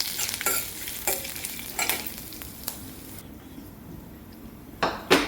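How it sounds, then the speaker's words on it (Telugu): Urad dal, cumin, dried chillies and curry leaves crackle in hot ghee with a steady close sizzle, broken by several sharp stirring scrapes against the pan; no one speaks. "నెయ్యి కాగిన తర్వాత మినప్పప్పు, జీలకర్ర, ఎండుమిరపకాయలు, కరివేపాకు, ఈ పోపు దినుసులు వేసుకొని"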